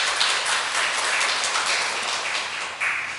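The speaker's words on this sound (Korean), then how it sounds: "우리 한나 여성교 회원들에게 다시 한번 격려의 박수 부탁드립니다" A congregation claps steadily in a Korean church during Sunday worship, a soft, dense wash of applause at moderate distance with no one speaking over it.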